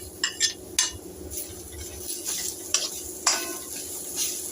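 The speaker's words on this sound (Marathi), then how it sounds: "हे छान आपल्याला तेलावर परतून घ्यायचं आहे" Cut potato sautéing in oil in a pan over low heat, stirred with a spoon: a steady soft sizzle under close, intermittent metallic scrapes and taps of the utensil against the pan.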